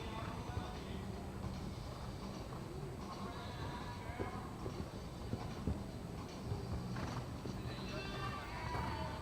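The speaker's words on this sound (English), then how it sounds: "See how beautifully his horse is jumping." Hooves of a 10-year-old stallion thud over the turf during a show jumping round at an outdoor winter classic, the footfalls muffled under steady crowd and arena ambience, with a commentator speaking throughout.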